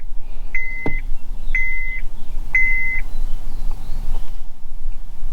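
A Honda Civic sounds its warning chime after the key is switched off: three evenly spaced, steady electronic beeps, each about half a second long, over a low rumbling background, with no talking.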